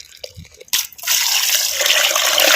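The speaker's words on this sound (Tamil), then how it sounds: "கோழிக்கறியை நல்லா அலசுகிறான் ஒரு முறைக்கு ரெண்டு முறை நல்லா தண்ணி ஊற்றி நல்லா அலசிக்கிறான்" Country chicken pieces are rinsed with water while preparing a temple-style rasam: a few soft drips, then a loud, steady rush of pouring and splashing water that runs close by, with no talking.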